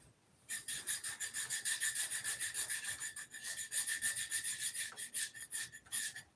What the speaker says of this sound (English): Just like sanding a radius.